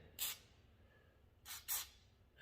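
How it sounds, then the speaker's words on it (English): Three short hissing bursts of penetrating oil sprayed from an aerosol can onto rusted bolts of a BMW E61 tailgate, one early and two close together later, with quiet pauses between them. "So I'm just spraying some penetrant."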